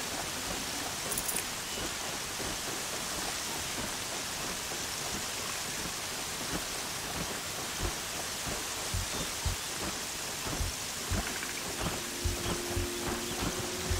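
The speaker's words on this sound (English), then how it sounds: "Stupid rain." Rain falling in the video game Horizon Zero Dawn, a steady hiss with soft low thumps and rumbles building toward the end, no voices.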